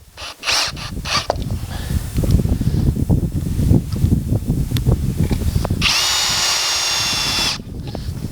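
A power drill drives screws to mount an anchor cleat into pre-drilled holes outdoors, with clicking and handling noises, a burst of whirring, then a sustained high-pitched spin near the end.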